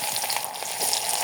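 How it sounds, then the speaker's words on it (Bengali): Chopped onion sizzles and crackles in hot oil in a kadai for a Bengali chorchori, a dense steady frying hiss, close and continuous. "তেল গরম হয়ে গেছে, দিয়ে দেবো পেঁয়াজ,"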